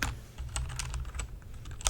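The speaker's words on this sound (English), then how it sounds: "This is a Red Dragon keyboard." Rapid, uneven clacking of keys being typed on a Red Dragon mechanical keyboard, close and clear with no talking, each keystroke a crisp click.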